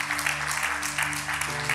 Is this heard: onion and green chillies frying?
no